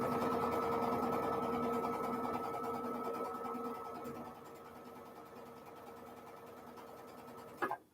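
Sewing machine stitching a quilt block in one continuous run, a steady close motor whir with a tonal hum that eases slightly before a brief clunk as it stops.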